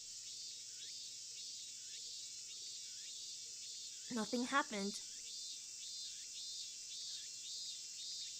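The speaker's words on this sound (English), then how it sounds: "The deafening silence was broken only by the cries of the cicadas" Continuous high, pulsing drone of cicadas in a video game scene, steady throughout, interrupted briefly by a short spoken phrase in the middle.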